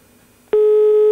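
A telephone tone sounds while calling the NRK switchboard, a single steady electronic beep starting abruptly after a quiet hiss and holding loud and close to the end.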